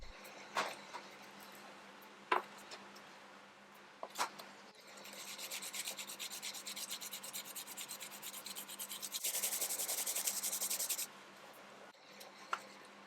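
Brass cabinet hardware from a 1936 Art Deco drinks cabinet being cleaned by hand, steady close rubbing and rasping strokes that build into a longer scrubbing stretch, punctuated by a few sharp taps, with no talking.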